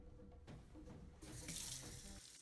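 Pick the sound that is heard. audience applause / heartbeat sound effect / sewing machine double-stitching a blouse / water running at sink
water running at sink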